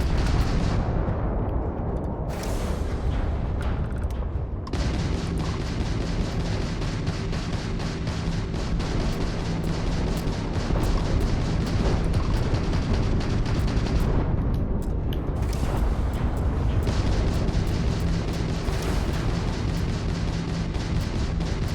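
Heavy weapons fire pounding a spaceship in the space game Starfield: a continuous roar of booming impacts and rumbling explosions, loud and unbroken throughout, with brief sharper blasts standing out near the start and middle.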